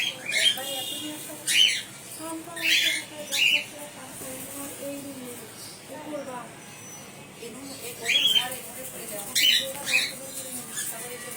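Cockatiels kept in a colony setup give repeated shrill squawks in short bursts close by, while someone talks steadily underneath.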